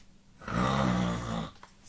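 A human voice imitates a bear snoring while reading a picture book aloud: one long, drawn-out rumbling snore of about a second, rising after a quiet start and fading back at the end.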